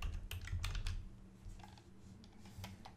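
Keys on a computer keyboard tapped in an uneven run of close, crisp clicks while a word is typed in capitals, with a low background hum underneath.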